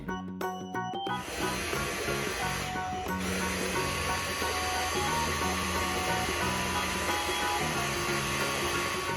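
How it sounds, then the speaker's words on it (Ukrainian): A blender whirs steadily, mixing cottage cheese, sour cream, gelatin and sugar for a no-bake raspberry cheesecake, a continuous motor drone after a brief clatter as it starts. "Тепер кладемо сир до блендера, додаємо туди сметану, желатин та цукор і вмикаємо наш блендер."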